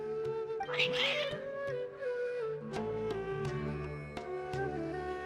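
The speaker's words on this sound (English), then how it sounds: "Your cats seem pretty worked up." Agitated cats meow repeatedly in a video game, their calls rising and falling over a sustained musical background.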